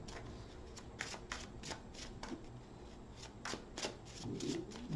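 Tarot cards being shuffled close by, with soft riffling bursts and papery slaps repeating in quick runs against a quiet background.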